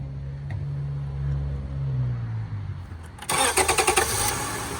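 A 3.7-liter Honda Odyssey Touring engine starts up by remote start: a low idle hum first, then a sudden loud cranking catch with rapid pulsing near the end.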